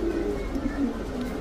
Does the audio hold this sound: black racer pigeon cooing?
yes